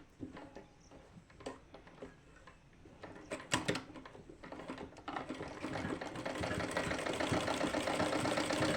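A sewing machine stitching lace onto cloth runs in short bursts of rapid mechanical clatter, then settles into a steady, continuous whir that grows louder toward the end.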